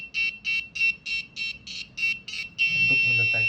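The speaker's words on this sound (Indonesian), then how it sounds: "ada buzzer untuk mengeluarkan suara" An Arduino parking alarm buzzer, triggered by an ultrasonic distance sensor, beeps in a steady run of about eight short, shrill pulses, then holds one continuous tone, with faint low rumbling underneath.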